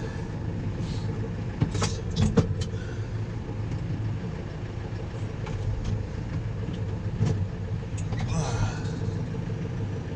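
A small New Holland T4 tractor engine runs at a steady idle on a farm, a continuous low rumble with a few clanks and knocks above it.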